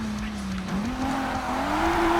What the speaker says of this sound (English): second gear sounds like torturing the poor engine